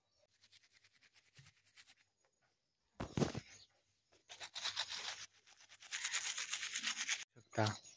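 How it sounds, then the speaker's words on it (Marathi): Close-up brushing of teeth with a toothbrush at home in the morning comes through as rhythmic scrubbing strokes, faint at first and then louder in dense bursts, with brief pauses between them. "घरी आता मी ब्रश करून घेतो मस्तपैकी"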